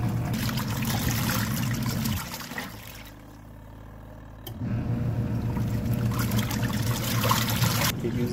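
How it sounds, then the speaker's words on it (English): A small pump in an off-grid cabin's washing machine drains the water out with a steady, loud rushing gurgle that dips briefly midway and then resumes at full strength. "it has a small pump that will pump the water out"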